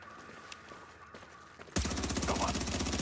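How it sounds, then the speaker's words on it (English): Gunfire in the video game The Division erupts suddenly after a quiet stretch, a loud rapid burst of automatic shots continuing steadily to the end. "Keep shooting."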